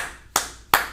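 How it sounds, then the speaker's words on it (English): Two sharp, close hand claps spaced about a third of a second apart, heard alone with nothing else around them. "Clapping for him."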